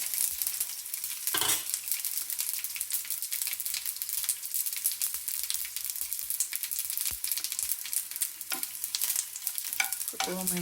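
Garlic frying in hot oil for a dal tempering gives a steady close sizzle, with scattered clinks and scrapes of stirring and a few louder pops near the end.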